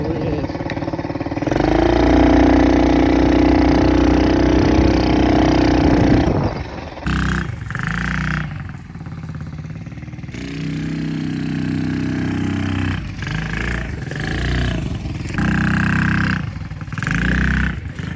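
A cheap Chinese ATV engine runs loudly and close by, with a steady harmonic drone for several seconds, then choppier bursts of revving and dropping back as it is ridden.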